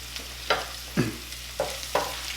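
A spoon scrapes and stirs scrambled eggs with fresh garden vegetables and seasoning in a pan, giving four or five distinct strokes at a steady pace against a soft, constant background hum.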